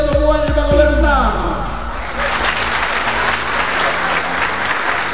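A comedy audience at Fernando Armas's stand-up show breaks into applause after a brief spoken line, the clapping rising quickly and holding steady and full for several seconds.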